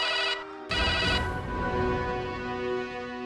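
An electronic phone ringtone plays steadily with a bright repeating tone, close and fairly loud, no one speaking.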